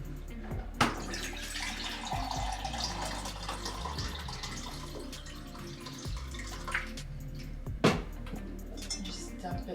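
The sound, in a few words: water poured into a measuring cup for almond milk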